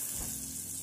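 Béchamel sauce with cream being stirred in a hot pan, a brief steady hiss and soft sizzle with no voices.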